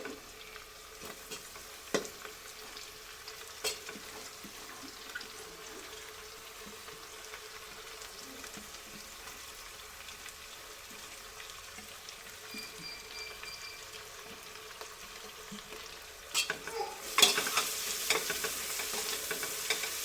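Chopped fenugreek leaves frying and being stirred in a pan, giving a quiet, continuous sizzle with occasional scraping taps and a louder burst of stirring near the end.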